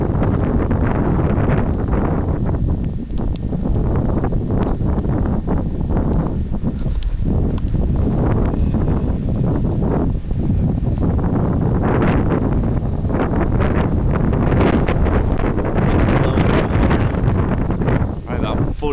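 Strong wind of about 45-50 mph blows snow down a residential street in freezing weather, roaring steadily and loudly across the microphone as heavy buffeting rumble throughout.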